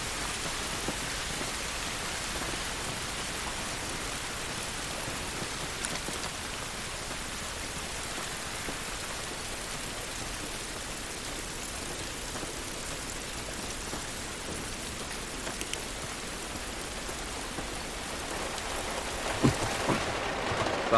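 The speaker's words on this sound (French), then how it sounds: "Cette pluie ne va pas nous aider." Steady, dense rain hisses without pause in The Last of Us Remastered, an even wash of falling water with a few faint taps near the end.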